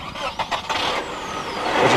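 A 1991 Infiniti G20 (Nissan Primera P10) with its 2-litre twin-cam 16-valve SR20DE four-cylinder engine revs close by, the engine note climbing and growing louder over two seconds with a faint whine above it.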